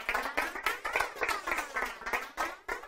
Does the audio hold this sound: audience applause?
yes